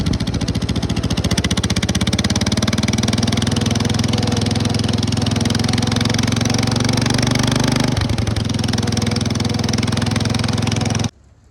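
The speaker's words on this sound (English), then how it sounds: "Didn't really improve the performance of the tractor much, but it definitely sounds a lot cooler" A loud 1985 John Deere 214 garden tractor engine with a custom exhaust stack runs steadily with a sharp, rapid popping exhaust note, holding near-constant revs before cutting off abruptly near the end.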